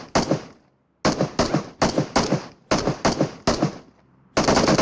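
Rapid automatic gunfire from the mobile battle royale game PUBG Mobile rattles out in loud, close bursts separated by short silences.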